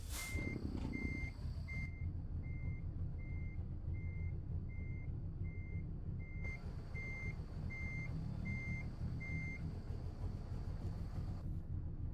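Truck reversing alarm in American Truck Simulator while backing up a rig hauling a giant forage harvester: a steady, evenly spaced series of beeps over a low continuous engine rumble, with no talk.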